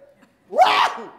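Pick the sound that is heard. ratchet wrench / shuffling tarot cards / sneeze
sneeze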